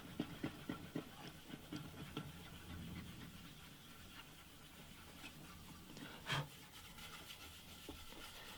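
Rubber being rubbed across the surface of an antique parlour guitar, giving faint, close, rhythmic scraping strokes that fade to a soft rasp, with one brief louder knock near the end.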